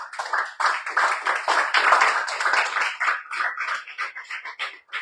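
Congregation applauding the Lord at a church service, brisk uneven clapping from several people, close and lively, with no talk over it.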